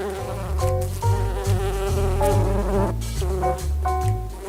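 A bee buzzes steadily and loudly up close, its droning hum wavering in pitch and pulsing slightly over a few seconds with no voices.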